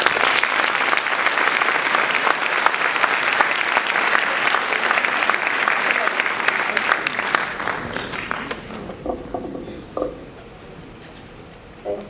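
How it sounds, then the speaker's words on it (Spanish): Loud, dense audience applause at a formal ceremony with military officials present, steady for about eight seconds before thinning to scattered claps. "Fuertes palmas para ella."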